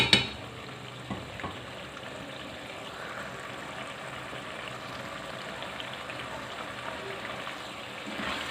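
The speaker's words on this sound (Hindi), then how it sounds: "बस 1 आध मिनट और इसको मैं भून के तो उतार लूँगी" Mutton keema fries in oil in a pan, a soft continuous sizzle and stirring under a quiet kitchen background, with a small clatter at the start.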